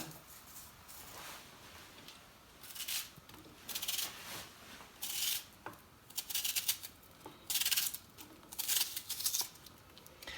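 Thin apple slices cut with a knife for frying, a series of soft crisp slicing and scraping strokes at close range, irregular and fairly quiet with no talk.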